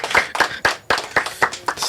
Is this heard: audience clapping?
yes